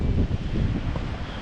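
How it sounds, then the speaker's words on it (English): Wind buffets a microphone outdoors in deep snow, a loud, steady low rumble of gusts with no break across the short stretch. "Yeah, can't get away from the wind."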